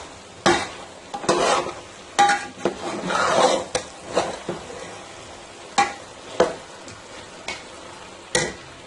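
A semolina halwa mixture with egg is stirred and fried in a pan, giving repeated sharp scrapes and clinks of a utensil against metal at irregular intervals over a faint sizzle, close up, with no talk.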